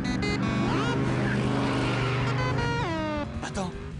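A car engine drones and revs while driving in a Transformers Prime animated episode. The engine is loud and continuous, with pitch sweeps as it shifts. Music or effects play underneath, and voices may be present.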